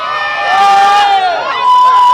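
Lively political party supporters cheer and chant at a debate venue in Pattaya, Thailand, with loud, close voices rising and falling together in a busy outdoor crowd.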